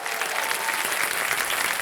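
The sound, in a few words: audience applause on KBC show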